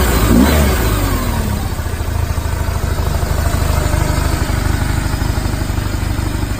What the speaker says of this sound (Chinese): 我们先来听一下发动机声浪。